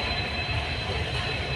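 A passenger train that has just pulled out of a station rumbles and rattles in a continuous, dense roar heard from on board, with no talking.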